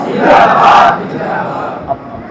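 A religious gathering's crowd roars back in unison in response to a takbir call, a loud collective shout that peaks and then trails off into scattered voices.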